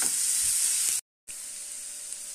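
Onion and carrot frying in a pan, a steady bright sizzle close up, broken by a short silent gap before the same even hiss returns.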